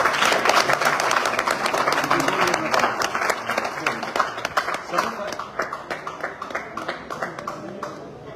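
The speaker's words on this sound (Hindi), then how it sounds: "मैं चाहूंगा एक जोरदार तालियां फिर से आरके सर के लिए" A room full of people claps loudly for a guest at a car delivery celebration; the applause starts as a dense wash, then thins into scattered, distinct individual claps that fade gradually.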